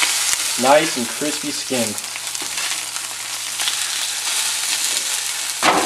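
Trout sears in a hot pan after being flipped, giving a steady loud sizzle and crackle of frying skin throughout. Someone talks briefly over it at the start.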